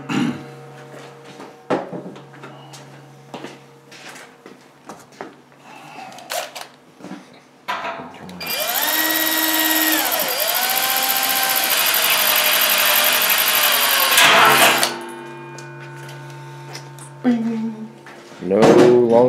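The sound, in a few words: power drill drilling holes in stainless brewing kettle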